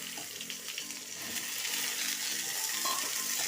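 Chopped shallots sauté in a pan for squid thoran, a close, steady sizzle and hiss with faint stirring clinks, growing a little fuller partway through.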